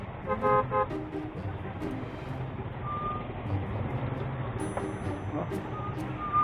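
Congested street traffic with trucks and cars, repeated horn toots and a reversing beep sounding over a constant engine rumble, with someone talking underneath.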